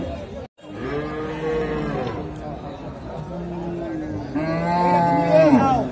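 Cattle at a busy rural cattle market in Bangladesh before Qurbani moo repeatedly in long, deep calls, some close and loud, while people talk over the din.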